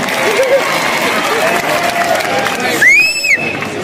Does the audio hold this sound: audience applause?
yes